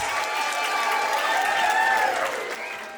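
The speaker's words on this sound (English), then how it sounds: "a round of applause for our special" Wedding reception guests applaud the dancers, a steady wash of clapping with some crowd noise and faint voices mixed in, holding loud for about two and a half seconds before thinning out.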